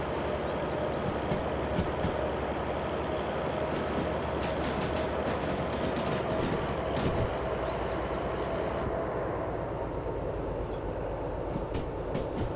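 A train in a video game rolls along its rails with a continuous low rumble and steady rattling, interrupted by occasional clicks and metallic clacks, holding a constant loudness throughout.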